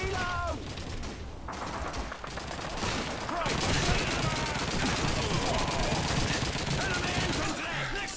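Sustained battlefield gunfire from the World War II shooter game Call of Duty 2, with dense overlapping rifle and machine-gun volleys and distant explosions running loudly and continuously throughout.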